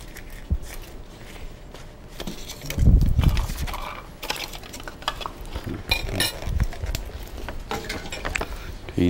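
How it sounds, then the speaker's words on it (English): Utensils scrape and stir soft margarine mixed with finely chopped herbs such as oregano, with irregular clinks and scrapes against a bowl, loudest in a couple of vigorous bursts. "You just pretty much mix it up."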